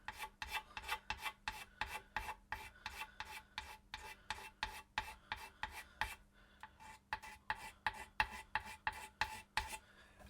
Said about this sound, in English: You just scrape that clean. Changing direction because the grain's going down a hill this other way.